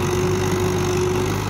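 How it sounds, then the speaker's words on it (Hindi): A 1997 Mahindra 475 DI tractor's diesel engine idles close by with a steady, throbbing low drone and a faint whine, running without change and without speech. "गजब का साउंड है इस ट्रैक्टर का"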